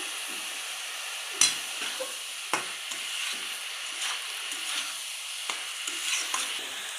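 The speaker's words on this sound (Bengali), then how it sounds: "এইবার ভেজে রাখা চিংড়িগুলো দিয়ে দেবো, দিয়ে ভালো করে মিশিয়ে নেবো এটা।" Previously fried prawns being stirred into a simmering prawn and potato curry in a pan, a steady sizzle broken by a few sharp scrapes of the spoon, close and with no talking.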